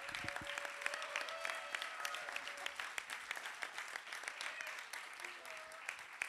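Audience applause for two people at a round-table panel during a festival presentation, steady dense clapping lasting several seconds with faint voices mixed in.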